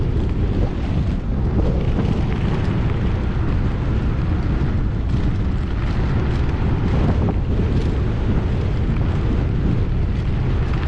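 A headwind buffets a cyclist rolling downhill on a rural ride near Gainesville, Texas, as a loud, constant roar of wind rumbling across the microphone with gusty swells.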